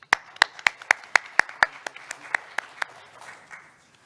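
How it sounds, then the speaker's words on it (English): Scattered audience at a conference opening ceremony gives sparse, distinct hand claps, about a dozen crisp, evenly spaced claps that fade and thin out toward the end, with no talk. "Please show us your best applause for him while he comes up to the stage."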